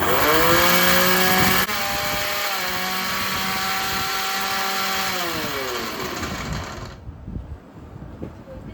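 A Veronica Master Chef 1400W mixer grinder whirs loudly at full speed, grinding dry cumin in its jar, a steady motor whine with a slight pitch drop midway before it cuts off and winds down to quiet.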